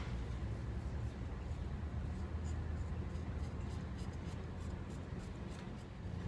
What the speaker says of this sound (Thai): ค่อยๆขูดไปได้ยินเสียงไหมแกลกแกลกแกลกเลย